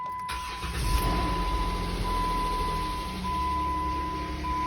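A Jeep engine cranks and catches right at the start, then settles into a steady, close idle hum with a faint tone beneath.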